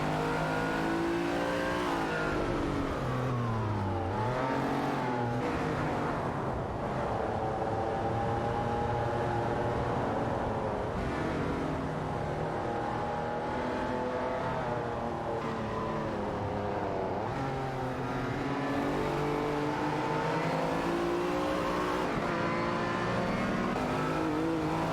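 Race cars roaring and revving as they battle for position, engines rising and falling in pitch over a continuous droning mix of several cars, moderately loud and sustained, with no talking.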